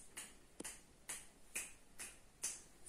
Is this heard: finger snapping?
yes